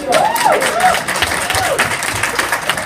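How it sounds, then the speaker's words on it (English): Applause from an audience at a community celebration honoring mothers, greeting a singer after her song; steady, fairly loud crowd clapping fills the short stretch, with a few voices and cheers rising over it. "let's give her another round of applause"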